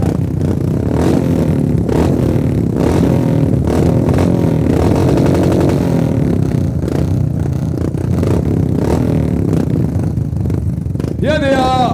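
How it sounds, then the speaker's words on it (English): 500cc Royal Enfield motorcycles race down a track, their engines rising and passing amid loud, busy crowd noise and clatter. "Here today on your favorite 500cc Royal Enfield, racing down the track"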